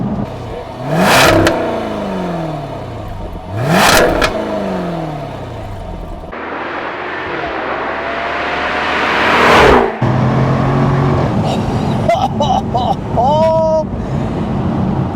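Jaguar F-Type 75 sports car engine revving hard in two loud surges, then a sustained accelerating run with rising harmonics and a further burst of revs near the end, mixed with wind and road noise.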